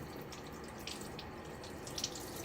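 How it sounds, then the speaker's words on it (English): Low, steady rush of tap water running into a sink while a face is rinsed after shaving, faint and continuous with small splashes and drips, no talking. "I'm going to rinse my face"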